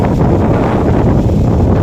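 Strong wind off Manila Bay buffets the microphone in a low, continuous rumble with gusty fluctuations, loud and close throughout.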